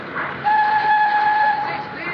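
A train whistle sounds at a railway station platform in wartime Britain, a steady two-tone blast lasting about a second and a half, loud and clear over a low station hum.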